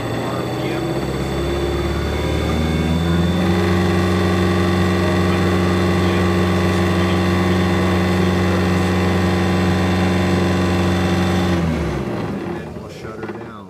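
A big electric motor on an ABB drive runs at 670 RPM at 13.4 Hz, giving a loud, steady, tonal hum with layered harmonics that steps up slightly early on and then winds down near the end.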